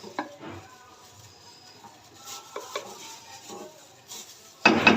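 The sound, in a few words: stir-frying chicken with ground masala in a pot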